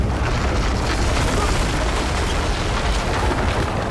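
Deep, continuous rumbling explosions from Battlefield 6 as rockets or grenades collapse building floors, a dense, loud roar of blasts and debris that fills the whole stretch without pause.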